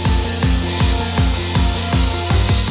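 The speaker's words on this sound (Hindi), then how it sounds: "अब चलिए इससे हम लोग दीवार में होल करके देख लेते हैं।" Cordless drill with a brushless BLDC motor boring a hole into a wall, a loud steady motor whine broken by regular pulsing bursts roughly every 0.4 seconds as the bit chews into the masonry, close and continuous with no talking.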